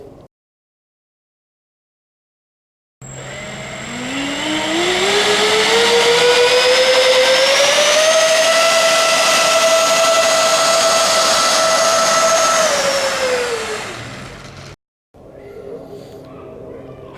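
A 50 mm Dr. Mad Thrust electric ducted fan on an RC G650 jet spools up from silence into a loud, steady whine with rising harmonics, holds full power for about ten seconds, then cuts off abruptly.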